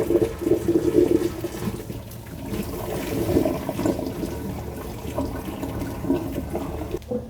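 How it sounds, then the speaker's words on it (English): Boiling water poured into a clogged kitchen sink drain, a steady rushing, gurgling flow of liquid lasting several seconds at close range, with no talking. "pour another half of your boiling water into the sink and let it stay there for another 5 minutes"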